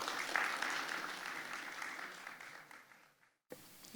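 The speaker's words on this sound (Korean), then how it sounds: "크게 박수로 맞이해 주시기 바랍니다" An audience at a forum applauds to welcome a speaker, a dense round of clapping that gradually thins out, falls silent briefly, then a small noise follows.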